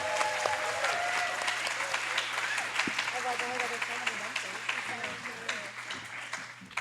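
A panel audience applauds in a steady roar of clapping, with scattered cheers and voices mixed into the crowd noise throughout.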